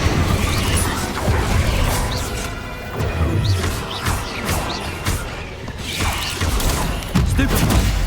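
An Incendio fire spell is cast in Hogwarts Legacy amid loud combat, with whooshing bursts, crashes and impacts layered over continuous game noise.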